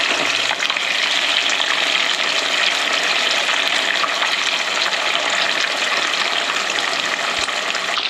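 Steady, loud sizzling of tofu frying in a hot pan, a continuous hiss with no pauses and no talking.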